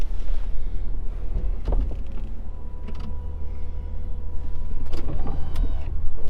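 The retractable hardtop of a 2011 BMW Z4 sDrive30i lowers at the push of a button. A close electric motor whirs steadily, with a few clicks and clunks as the roof panels fold, all over a low idling hum.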